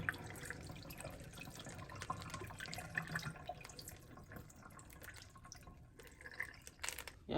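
Rinse water being poured out of a bowl of small beans into a kitchen sink, a steady trickling and dripping splash running continuously at close range, with no talking over it.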